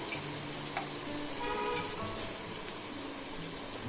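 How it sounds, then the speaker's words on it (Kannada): Mint leaves fry in oil in a pan for a vegetable pulao, giving a steady, even crackling hiss like light rain, close and low in level with no clear breaks. "ಸೊ ಅದನ್ನು ಚೆನ್ನಾಗಿ ಫ್ರೈ ಮಾಡಿ ಒಂದು ಸ್ವಲ್ಪ ಹೊತ್ತು."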